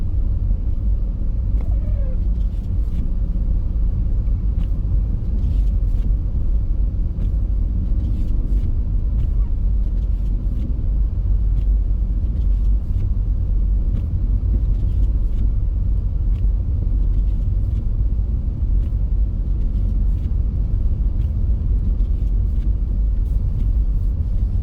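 A car drives along a snowy road on the way to Leeds on a Sunday morning, a steady low engine and tyre rumble continuing inside the cabin with faint occasional clicks.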